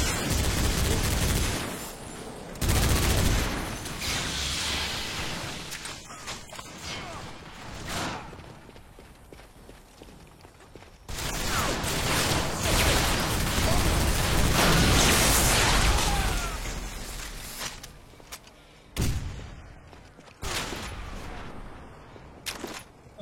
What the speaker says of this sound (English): I heard a shotgun.